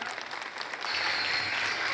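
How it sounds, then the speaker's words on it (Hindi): Audience at a Hindi poetry recital breaks into steady, dense clapping that swells after a brief lighter start and holds at full strength to the end. "मेरी इस बात का ताली बजाकर अपनी सहमति देना।"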